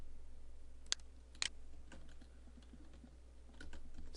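Keys clacking on a computer keyboard as numeric values are entered, a couple of sharper isolated strokes followed by lighter scattered taps, close and quiet with no talk.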